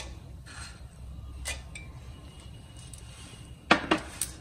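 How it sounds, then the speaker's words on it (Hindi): Ice cubes dropped into a glass of homemade jaljeera strike with a quick cluster of bright clinks and rattles near the end, following quieter scattered kitchen taps and soft handling noises. "अब मैं इसमें थोड़े से आइस क्यूब्स डाल दूंगी"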